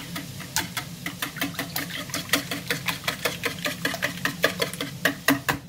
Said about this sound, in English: your 2 cloves or 2 teaspoons of minced garlic, salt, pepper. Whisk that together.